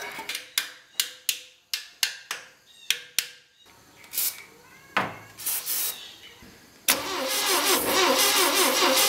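Saab Sonett engine cranking after sitting unused for 20 years, a rapid run of sharp starter cranks, then uneven sputtering tries that catch into a loud, rough, close running roar.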